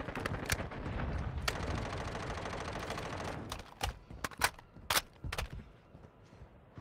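Gunfire in Warzone Mobile, with a dense stretch of rapid automatic fire followed by scattered, separate loud shots with gaps between them.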